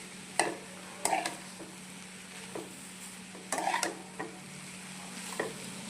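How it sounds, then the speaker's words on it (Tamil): Kambu (pearl millet) vermicelli being stirred and mixed in a pan with a little oil, a series of separate scraping strokes and clinks of a utensil over a steady low hum. "இப்போ இதெல்லாம் நல்லா மிக்ஸ் பண்ணி பார்க்கலாம்."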